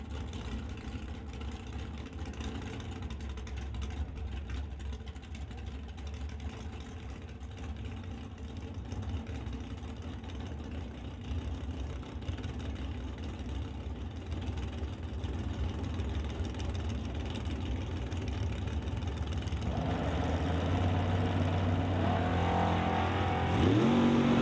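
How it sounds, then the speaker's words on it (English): At a drag race, a Pontiac Grand Prix and a Chevrolet S10 sit with engines rumbling steadily, then the noise builds and swells into a louder launch roar at the end. "And that brings up Paul Soares in the Soares Hot Shot Pontiac Grand Prix to race John Tabac and the Rad Torque Systems S10"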